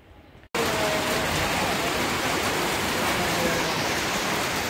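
After a brief quiet moment, heavy rain suddenly fills the air, a dense, steady roaring hiss of downpour close by.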